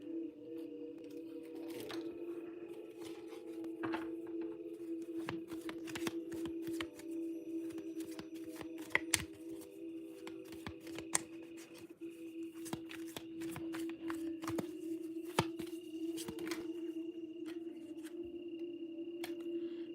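Tarot cards are shuffled by hand in a long run of crisp riffles and soft slaps, close and fairly quiet over a steady low hum.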